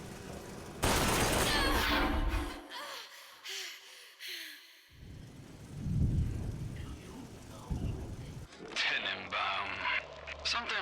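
Shotgun blasts in Bioshock Infinite: Burial at Sea, a few heavy booming shots spaced out amid game sounds, breathing and a stretch of near silence, with a voice speaking partway through.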